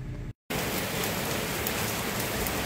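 Steady, dense rain drumming on the roof of a tricycle, loud and continuous apart from a brief dropout near the start, with no voices.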